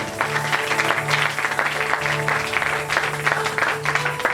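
A church congregation at a Sunday service claps and cheers in a dense, continuous wash of applause, steady and loud throughout, with a low rhythmic musical pulse underneath.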